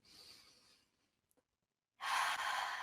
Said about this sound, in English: And then exhaling with a deep breath out